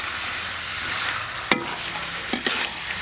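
Chicken cooks in a pan with ground spices, a loud, dense, steady sizzle with a few sharp spatula knocks, close up and without talk.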